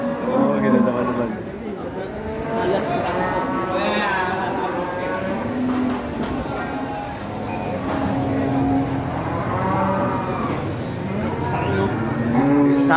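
Cattle at a livestock market moo in drawn-out calls from nearby, several coming one after another amid busy market noise while people talk throughout.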